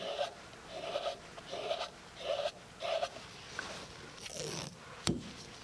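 Adhesive tape is pulled from the roll in several short rasping strips and pressed over a lens, with rhythmic close ripping bursts followed by a rustle and a sharp tear near the end.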